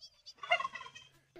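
A turkey gobbles in a rapid, warbling burst at an abandoned zoo, fairly close and clear, followed by a short call at the end.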